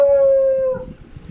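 A dog at a concrete kennel lets out one loud, steady howl lasting most of a second, then trails off into softer whimpering noises.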